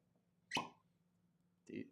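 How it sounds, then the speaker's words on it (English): A cork comes out of a bottle of Larceny Barrel Proof bourbon with a short, sharp pop close by, then a softer second sound follows a second later in a quiet room. "Decent cork pop though."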